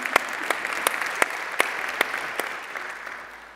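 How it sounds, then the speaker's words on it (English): Audience applause at a women-in-business awards ceremony, a steady wash of clapping from a large room with a few sharper individual claps standing out, gradually thinning toward the end. "Another round of applause."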